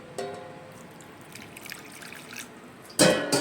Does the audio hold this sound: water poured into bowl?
yes